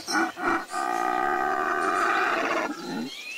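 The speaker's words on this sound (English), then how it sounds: "and a howler monkey into my soundscape." A howler monkey call from a rainforest soundscape app rises as a loud, sustained, throaty roar lasting about two seconds, preceded by two short bursts and trailing off into quieter rainforest ambience.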